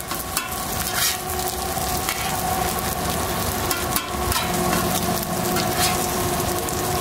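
Eggs sizzling on a Camp Chef flat top griddle, a steady loud frying hiss with occasional scraping and stirring sounds.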